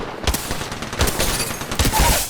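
Rapid bursts of gunfire from the Apex Legends battle royale game, several sharp cracks spaced across the clip over a steady bed of game noise, close and loud with no talk.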